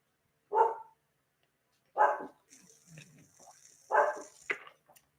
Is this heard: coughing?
no